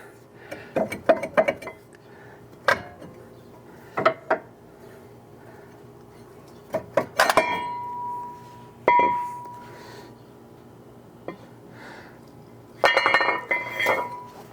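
Metal clinks and clanks ring out close by in scattered clusters as the brake rotor and parts come off a Dodge Charger R/T, with bright taps separated by quiet gaps.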